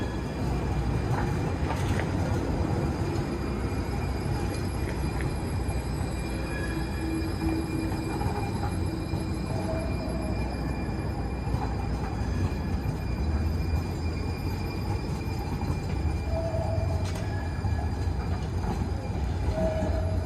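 Muni KT light rail train at 4th and King station in San Francisco, a steady loud rumble of rolling railcars with occasional wheel squeal and clanks, continuous throughout.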